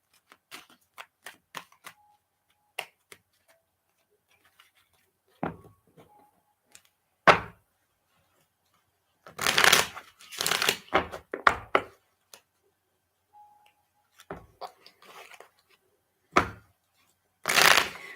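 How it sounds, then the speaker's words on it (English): Cards being shuffled, with light riffling clicks followed by several louder bursts of riffle and snap, close and otherwise quiet. "so the cards are very shuffled"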